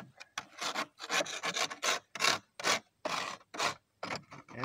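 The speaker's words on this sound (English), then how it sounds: "We use the wood. Get this all scraped up." A wooden tool scraping dried sea salt from a pan, close and repeated, a rhythmic series of short gritty rasping strokes with brief gaps between them.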